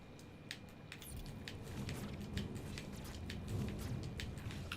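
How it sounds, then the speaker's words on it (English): Steady rain hisses in Pokémon Brilliant Diamond with a low rumble of thunder beneath it and scattered sharp drip-like ticks, all quiet and continuous with no one talking. "Yep, I'm hearing thunder."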